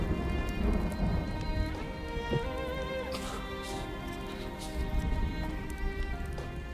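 Rain pours steadily in a TV drama scene, a continuous dense patter with low rumbling underneath and faint tonal background music, fairly loud and even throughout.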